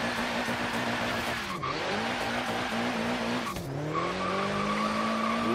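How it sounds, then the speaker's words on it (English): Ford Focus RS with a wide-body build launching hard in Forza Horizon 3, its loud engine note rising through two gear changes as tires squeal under the continuous roar. "Let's get a little launch happening."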